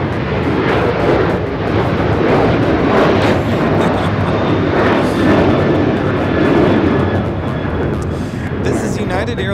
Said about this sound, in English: This is United 737. Launches off to 5 right.